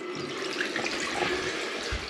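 Cold water runs steadily from a bath tap with a dripping fault, a continuous broadband hiss and gush of flow heard nearby and alone.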